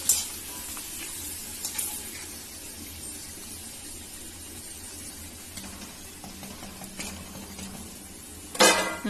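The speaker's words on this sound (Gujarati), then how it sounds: "હવે તેલ થઈ ગયું છે એટલે પાપડ તરી નાખીએ" Papad frying in hot oil in a home kitchen gives a steady, fairly soft sizzle that runs throughout, with a few faint clinks of a utensil and a louder pan knock near the end.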